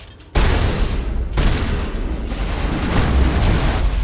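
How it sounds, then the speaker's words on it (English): A grenade from Mass Effect goes off in a loud, close boom, followed by a sustained rumbling roar that carries on with sharp bursts layered over it. "Let's go ahead and throw a grenade"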